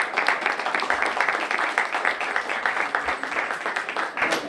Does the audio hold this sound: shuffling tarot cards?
no